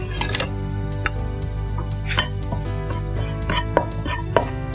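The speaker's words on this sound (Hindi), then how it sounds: "क्रैकलिंग आवाज़ जब ज़ीरे की आने लगेगी" Cumin seeds crackle and pop irregularly as they roast in a hot pan, with sharp little bursts over a low, steady hum.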